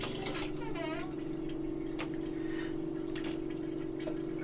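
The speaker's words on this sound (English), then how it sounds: "Might take a few flushes." Water rushes steadily through an RV toilet during a flush, a continuous gurgling flow with a steady pump-like hum beneath it and a few faint clicks.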